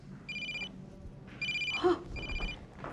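An indoor telephone bell rings in short repeated bursts, three rings in quick succession, moderately loud against a quiet room with no talk.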